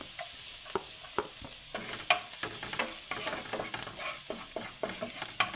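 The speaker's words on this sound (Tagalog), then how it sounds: "Saute na natin yung ating garlic." Garlic sautéing in plenty of oil in a pan while cooking creamy salted bangus (milkfish), a continuous bright sizzle broken by frequent sharp clinks and scrapes of a spatula stirring, close and without talk.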